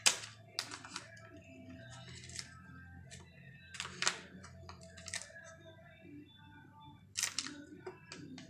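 Paper is folded by hand into a paper airplane: scattered soft crinkles, creases and light taps near the microphone, with faint low background hum and no clear talking.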